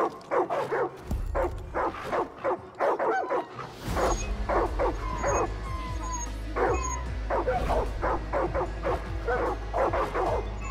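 Dogs in the Far Cry New Dawn video game bark in a rapid string of short, sharp yips over a low steady rumble, near and fairly loud, going on for about ten seconds.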